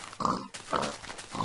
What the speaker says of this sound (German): Oh, Schweinehorde.